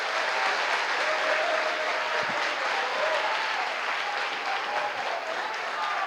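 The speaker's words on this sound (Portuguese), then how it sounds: "Você pode aplaudir Jesus se tiver mão." A church congregation applauds during a Sunday worship service: a dense, sustained wash of clapping from many hands that holds steady and fairly loud throughout.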